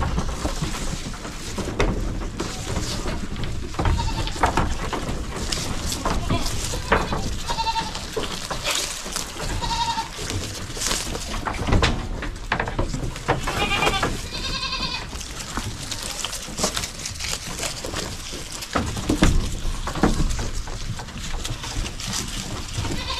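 Goats bleat repeatedly on a hillside farm, several calls rising over steady outdoor noise and rustling, some close and some farther off, with no talking.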